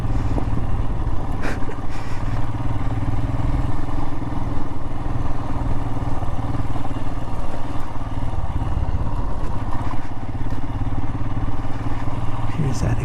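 Royal Enfield motorcycle ridden along a desert trail with thick sandy washes: a continuous low engine drone with rattling and clatter from the bike, steady and close throughout, with occasional knocks over the rumble.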